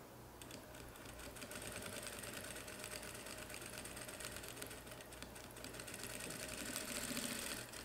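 A sewing machine runs continuously while stitching a lining seam, giving a fast, steady mechanical whirr and rapid needle patter at close range, slightly louder near the end.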